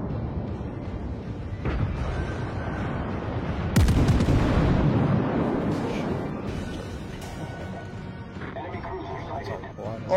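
Warship game battle with the USS Wyoming as a target: heavy naval gun blasts, one loud crashing shot near the middle followed by a long rumbling decay, with someone talking over the cannon fire.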